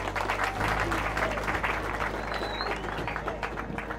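Schoolchildren clap together in a sustained burst of applause, dense and continuous for several seconds, with crowd murmur mixed in.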